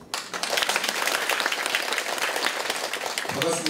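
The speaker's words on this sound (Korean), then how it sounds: "큰 박수 부탁드립니다." Audience applause for clarinet players of a dream ensemble at a disability-awareness education event in Daegu: dense, steady clapping of a full room for several seconds, with a voice briefly starting at the end.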